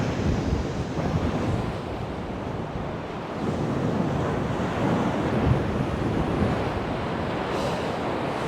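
Rough sea waves crash and wash on Chesil Beach in Dorset, a loud continuous roar with surging swells, mixed with gusty wind buffeting the microphone.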